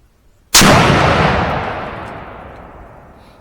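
Single sharp rifle shot fired at a target 40 yards away outdoors, a loud sudden crack followed by a long fading rolling echo, no voices.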